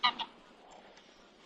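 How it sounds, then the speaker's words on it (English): Geese by a fishing lake let out two short, brassy honks right at the start, moderately distant, followed by quiet open-air ambience. "Fucking geese."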